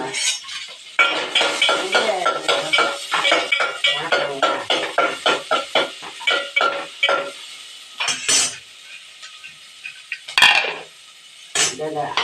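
Quick rhythmic scraping and clinking of a metal spatula stirring onions and green chillies in a pan, with a soft sizzle underneath and occasional louder clanks.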